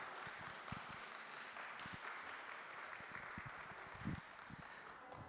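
Audience applause greets the winning racer at a boat race trophy ceremony, a faint, distant, continuous patter of clapping from a crowd across an open venue, with occasional louder claps standing out.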